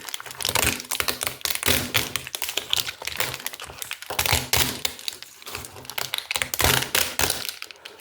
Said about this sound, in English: So you have bits of keys flying everywhere, as you can see here.